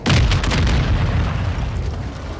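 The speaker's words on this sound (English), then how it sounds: "Hostiles launched a cruise missile." A cruise missile detonates in Call of Duty: Modern Warfare II, a loud, heavy boom that hits at once and rolls on as a deep rumbling roar, fading only slightly over a couple of seconds.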